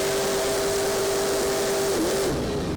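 A methanol-fed, big-block Chevy-based engine in a monster truck, running through a small muffler, drones loudly and steadily up close with a constant low tone, then dips slightly near the end.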